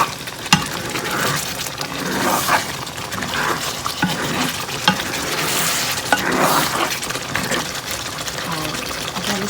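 Butter with ginger and green chili sizzles and fries in a karahi, a steady loud crackle broken by stirring scrapes throughout, with a voice talking over it at times.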